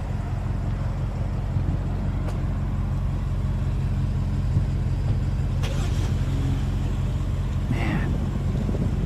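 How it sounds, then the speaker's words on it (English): A car is driven a short way out of the way beside a new BMW X5 M, giving a steady low engine hum with a few brief clicks and knocks, close and loud and with no voices. "just going to move a car out of the way real quick"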